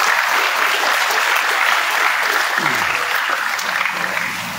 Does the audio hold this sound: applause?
yes